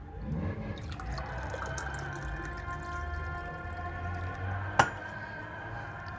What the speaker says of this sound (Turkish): Şimdi su bardağına su koyuyorum.